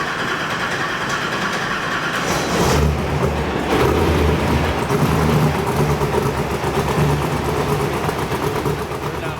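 A 700-horsepower desert race truck engine idles with a steady low rumble and a rough, throaty texture, holding a constant loud drone throughout with slight surges.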